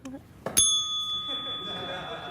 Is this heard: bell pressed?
yes